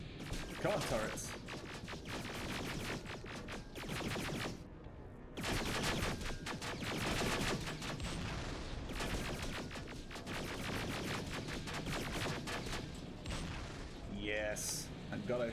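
Car-mounted turrets in the video game Terminator: Resistance fire rapid, sustained bursts of gunfire, loud and dense with brief gaps between volleys.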